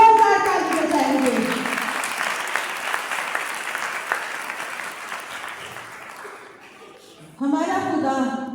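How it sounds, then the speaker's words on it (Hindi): Loud applause from a worship congregation rises over a speaker's voice, then thins and fades out before the preacher resumes talking. "जिंदा खुदा के लिए जोरदार ताली बजाएंगे"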